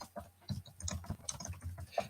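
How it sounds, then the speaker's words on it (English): Soft, quick, irregular key clicks as someone types a reply on a laptop keyboard, faint and close in a quiet room, with no voices. "I'll type a reply"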